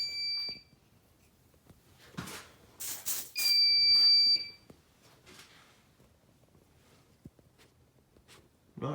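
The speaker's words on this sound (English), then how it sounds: "Let's get some smoke spray and test our smoke detectors." A shrill, piercing electronic smoke detector alarm beeps in short bursts during a smoke-spray test, amid handling noises, rustling and a few scattered clicks and thumps.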